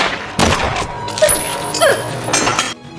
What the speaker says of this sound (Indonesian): Secara bersamaan, mereka pun melepaskan tembakan dan menghabisi nyawa kedua penjahat tersebut.